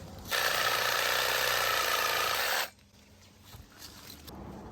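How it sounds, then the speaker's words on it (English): Pruning tool working through a citrus tree branch during trimming and grafting: a loud, rasping sawing or ratcheting burst of about two seconds, close by, then quieter outdoor ambience with faint rustling. "maybe we'll just trim this whole branch off"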